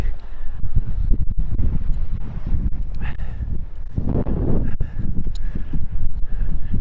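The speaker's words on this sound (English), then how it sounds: "You can see how windy it is." Strong wind during paraglider ground handling on a windy site. Gusts buffet the microphone with a steady, rough low roar that surges and dips throughout. No talking.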